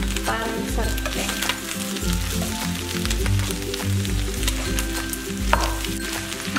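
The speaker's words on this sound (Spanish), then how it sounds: "Ahora le vamos a agregar el jitomate y el chile. Va todo para el sartén." Tomato and chili hissing and sizzling in a hot frying pan for chorizo chicken, a steady dense crackle with occasional stirring scrapes and no talk.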